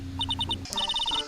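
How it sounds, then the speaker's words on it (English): A phone ringtone from Phoenix Wright: Trials and Tribulations plays two quick runs of bright electronic beeps, a short burst of four tones, then a faster rippling sequence, clear and close over a faint backing hum. "my phone's ringing"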